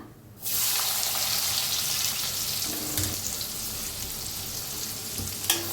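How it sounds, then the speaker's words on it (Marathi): Finely chopped onion hits hot oil with asafoetida for a dhaba-style matki sambar, setting off a sudden loud sizzle that settles into a steady, close hiss of frying with a few faint utensil taps. "कांदा छान असा भाजायचा।"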